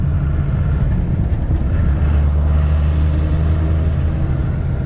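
A Ford truck fitted with a swapped-in Cummins diesel engine rumbles continuously at close range, with a deep, steady low drone and no voices over it.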